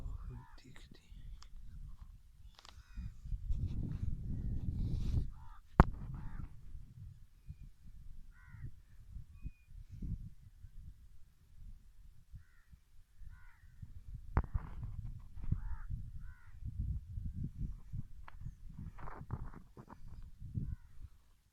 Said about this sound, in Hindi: देखें, मिट्टी के कलर की चिड़िया थी, बिल्कुल नज़र नहीं आ रही थी।